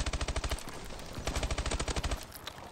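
Rapid bursts of automatic fire from a Speakeasy gun in a shooter video game, two quick rhythmic volleys with a short pause between, fairly faint in the mix.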